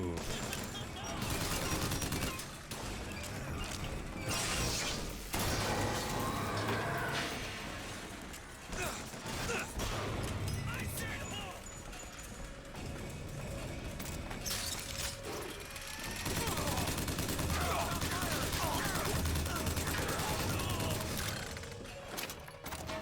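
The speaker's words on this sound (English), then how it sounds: "I love Gatling guns." Gatling gun fire in Bioshock Infinite, dense sustained bursts of rapid shots with mechanical clatter, loud and continuous over about twenty seconds, mixed with crashes and game effects.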